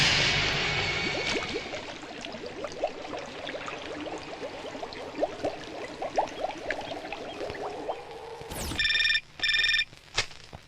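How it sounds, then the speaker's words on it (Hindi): A telephone rings in two short electronic bursts near the end, loud and close, after a stretch of scattered clicks and low background noise with no talking. "Sir phone."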